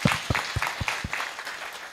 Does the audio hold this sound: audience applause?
yes